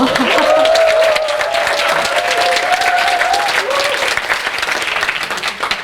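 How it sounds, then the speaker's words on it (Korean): Audience applause at a TEDx talk on how men and women communicate, a dense, loud wash of clapping lasting the whole stretch with faint cheering voices, slowly thinning toward the end. "박수 좀 더 보내주세요"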